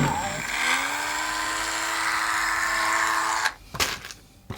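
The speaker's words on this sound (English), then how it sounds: "So we'll drill it" A small drill bores a 1 mm hole in a metal coupling rod from a DJH 2MT 2-6-0 locomotive model kit. A steady high whine spins up and holds for about three seconds, then stops, followed by a few sharp clicks.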